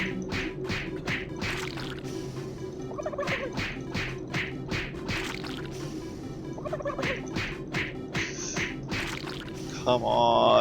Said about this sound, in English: punching turkeys.